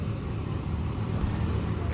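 A Transport Express Jaya bus named Ian Cakradewa rolls in alongside a Gumeran Jaya bus, a steady low engine rumble mixed with road and traffic noise, close and constant, with no voices.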